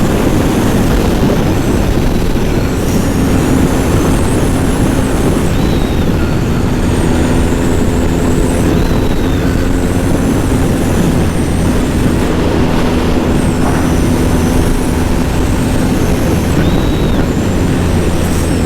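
A cafe racer motorcycle rides through a valley with a steady, loud engine drone under heavy wind rumble. Faint pitch shifts come as it changes gear, with no talk.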